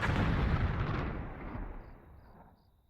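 A high-explosive cannon round fired in a modded video game: one loud, heavy boom that rolls and fades away over a few seconds, with no talk.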